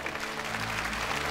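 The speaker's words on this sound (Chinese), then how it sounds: "掌声！" A crowd applauds steadily as medals are presented at a televised academic competition, with continuous dense clapping throughout and no voices.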